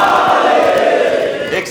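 A crowd at a Shia majlis shouting the Haidari slogan in unison, a dense sustained roar of many voices at full volume that fades slightly at the end.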